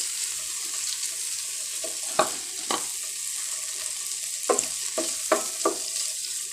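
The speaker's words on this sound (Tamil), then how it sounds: "இப்போ நம்ம கட் பண்ணி வச்சுக்கிற பன்னீர் அதில் போட்டுக்கலாம்." Cut paneer pieces sizzle steadily in hot oil in a pan for a corn paneer cheese masala, with several sharp scraping knocks of a spatula stirring them, close and moderately loud with no voices.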